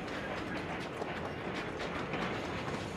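A train rolls along rails with a continuous rumble and rhythmic rattling clatter, steady and fairly close throughout.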